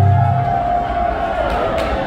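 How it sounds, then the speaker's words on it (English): Crowd at a live rock concert, giving a loud, murmuring roar of voices with a few whoops and shouts, over a sustained tone from the stage sound system. "There's some noise in the crowd."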